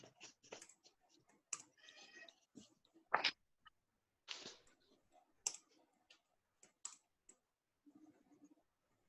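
Scattered clicks and taps of a computer keyboard, quick bursts of keystrokes with short pauses between, fairly quiet and close.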